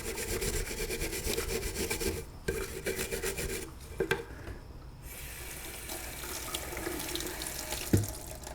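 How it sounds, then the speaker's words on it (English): A piece of copper is wetted and scrubbed with detergent and water, giving steady running-water hiss mixed with close rhythmic rubbing and rasping, with small taps and clinks. "So I put just a little bit of detergent on here and I wet and I scrub."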